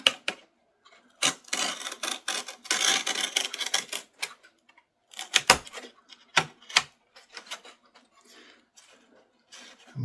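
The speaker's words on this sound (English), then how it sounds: "So let's cut a notch through there." Close, scratchy cutting and rasping on aircraft fuselage sheeting as a notch is cut, with irregular bursts of grinding strokes and sharp clicks separated by short pauses.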